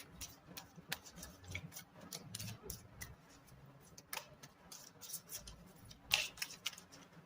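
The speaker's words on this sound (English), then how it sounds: "Alright, three shuffles." Tarot cards are shuffled by hand in a quiet room, a faint series of soft riffling taps and clicks in short irregular bursts, with a sharper flick near the end.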